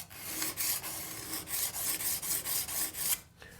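A metal hand file rasps along the edge of a cabinet scraper blade to smooth away file marks, close and steady, with about a dozen rhythmic back-and-forth strokes and a brief pause near the end.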